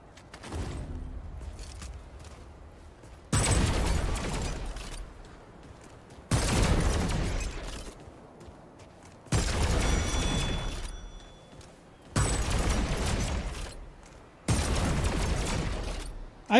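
Ricochet disc gun blasting in Remnant II, six long bursts of rapid mechanical fire, each a few seconds with brief gaps between, loud and close with no talk.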